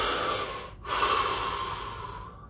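A single slow, deep breath taken during a relaxation exercise, a close airy inhale followed after a short break by a long, gradually fading exhale, with no talking.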